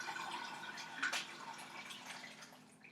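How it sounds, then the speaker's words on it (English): Water kefir trickling and dripping through a filter as the grains are strained out, a steady light splashing stream with a few louder drips close by. "So you want to take your kefir water and filter those grains out."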